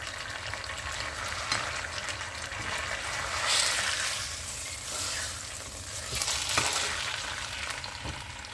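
Meat browns gently in a pan over low heat, giving a quiet continuous sizzle that swells and fades, with occasional stirring and scraping, heard up close.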